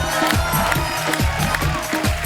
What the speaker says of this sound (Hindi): जोरदार तालियां हो जाए हमारे मेहमानों के लिए।